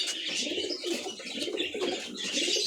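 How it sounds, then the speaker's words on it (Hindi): Pigeons kept in an old coop cooing softly and continuously, with faint chirps and some ambient noise around them, nearby and without speech. "ये कबूतर आपने देखना है"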